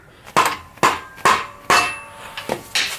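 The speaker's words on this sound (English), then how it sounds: "Give it a few love taps with the hammer." Hammer striking a floor jack part after its nut is tightened, five sharp metallic taps in an uneven rhythm, close and clear, followed by a few lighter knocks.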